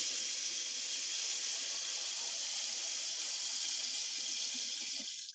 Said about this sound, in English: Gonna put it in some hot water.